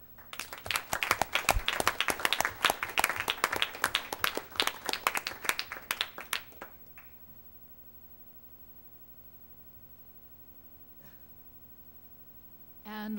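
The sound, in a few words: applause at board meeting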